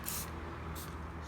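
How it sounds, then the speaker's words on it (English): McKee's 37 glass restorer sprayed onto glass from a trigger bottle: two short, close hissing spritzes a moment apart, against quiet background. "Spray it on there."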